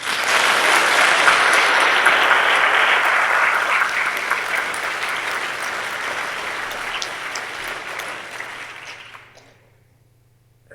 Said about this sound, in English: A big round of applause to Håkan Mattsson.